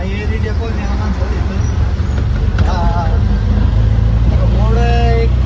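Road traffic near Air India Colony, many vehicles passing in a steady close rumble with scattered horn toots, under people talking.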